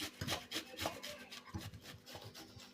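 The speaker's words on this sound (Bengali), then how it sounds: "ছোট দিকটা দিয়ে আমটাকে ভালো করে ঘষে নিতে হবে" A mango is rubbed back and forth across a grater, giving a steady series of close, soft rasping strokes in a quiet kitchen with no talking.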